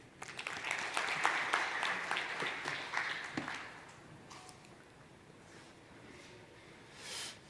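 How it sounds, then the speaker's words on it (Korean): A seminar audience at a cloud security demo claps for a presenter, a crisp round of many hands that is strongest for about four seconds before thinning out into scattered faint claps. "박수 좀 쳐주시죠"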